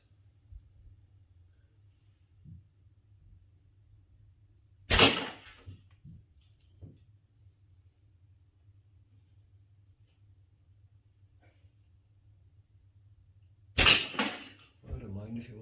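Slingshot shots striking a can indoors on a rainy day: two sharp, loud cracking impacts about nine seconds apart, each with a brief rattling tail, over a low steady hum.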